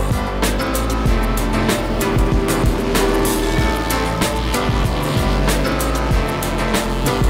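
Several Harley-Davidson XR750 flat track motorcycles race on a pea gravel half-mile oval at the 2015 Lima Half-Mile, their engines producing a loud, dense, continuous roar that swells as bikes pass close by.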